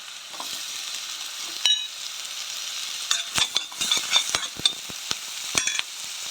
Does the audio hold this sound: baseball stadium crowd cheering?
no